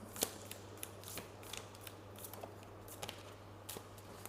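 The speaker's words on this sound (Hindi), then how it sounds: "सो पहले हम 3 कार्ड्स इस डेक में से ले लेंगे।" Tarot cards are drawn from a deck, three cards taken, giving soft papery slides and small crisp flicks in scattered bursts, faint and close, over a low steady hum.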